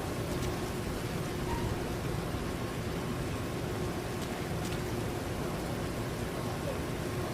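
Rain falls steadily in GTA V as an even, unbroken hiss that holds at the same level throughout, with no clear individual drops.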